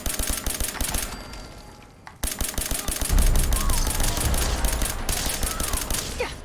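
PP-91 Kedr submachine gun fired in Fallout 4, rapid bursts of close, loud automatic shots with short gaps between volleys, one brief pause early on, then sustained firing.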